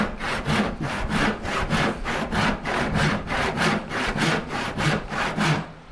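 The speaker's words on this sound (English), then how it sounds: "it still feels like it's cutting faster than my 13 point down here." A hand saw, likely in need of sharpening, cuts through wood for a Shaker Enfield cupboard, making loud close rasping strokes in a steady back-and-forth rhythm, about three strokes a second, with no voices.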